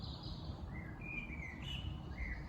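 A thrush sings outdoors in a run of clear, high, whistled phrases that rise and fall one after another. The song sits above a low rumbling background and no one speaks.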